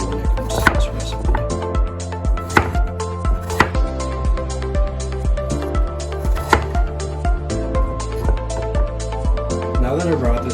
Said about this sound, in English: It's really up to you the size that you cut these vegetables into.